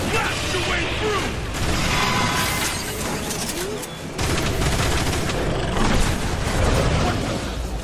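Rapid bursts of sci-fi weapon fire in a Transformers War for Cybertron battle against an armored Dark Energon creature, sustained and loud with clanks and impacts, mixed under dialogue.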